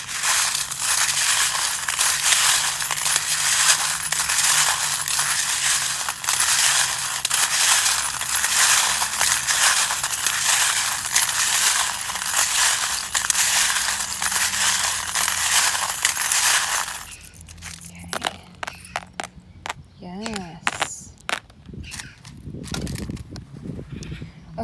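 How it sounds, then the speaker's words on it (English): Tarot reading charms are dropped and scattered in a long, loud, dense clattering rush that stops abruptly, followed by sparse separate clicks and small rattles as pieces settle. "please turn down the volume, as always, if you don't like the sound of the charms or don't think you will"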